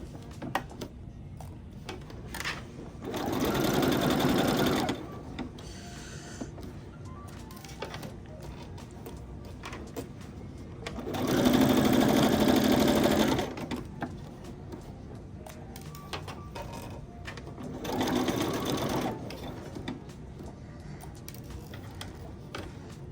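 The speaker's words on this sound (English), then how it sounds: "Sew around the inner edge to attach the brim to the crown." A sewing machine stitches the brim of a denim patchwork bucket hat to its crown in three separate runs of steady whirring motor noise, each lasting a few seconds, separated by quiet pauses with no talk.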